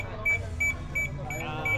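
A parked motorcycle's alarm at an anniversary gathering gives a series of regular electronic beeps, about five evenly spaced pulses, over a low rumble of background noise.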